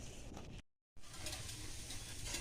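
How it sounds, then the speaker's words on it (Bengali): Palm fritters fry in hot oil with a steady, close, dense sizzle that cuts out briefly for a moment and then resumes just as loud. "তো আস্তে আস্তে সুন্দর করে ভাজাটা হবে"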